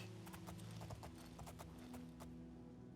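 Horse hooves clip-clop in a steady, quick rhythm in the video game The Elder Scrolls IV: Oblivion, moderately loud over a constant background hum.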